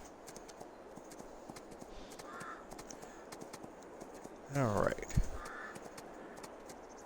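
Horse hooves clip-clop steadily while riding in the Farming Simulator 22 video game, soft rhythmic clopping under game sounds with a brief bird call and a short spoken word.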